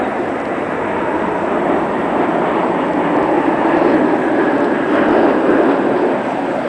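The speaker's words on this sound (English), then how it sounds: "Gotta wait for that jet to pass." A jet aircraft passes overhead and makes a steady, loud broadband roar that fills the whole stretch outdoors, with no voices over it.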